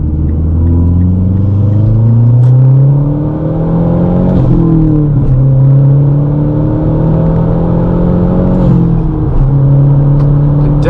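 A 2011 MazdaSpeed3 accelerates hard, its engine note climbing steadily through the gears with a brief dip at each shift, loud and close from inside the cabin with no talk.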